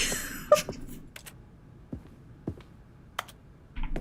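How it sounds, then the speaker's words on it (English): Mouse clicks in The Stanley Parable that sound like keyboard typing: sparse, sharp clicks spread unevenly over a few seconds, fairly quiet against a low room hum. "It's so weird how whenever we click, it sounds like we're typing."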